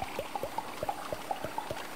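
Bubblegum Boost from the Rocket League video game: a rapid string of about a dozen soft, wet bubbly pops in a steady rhythm, close and fairly quiet, with no talking.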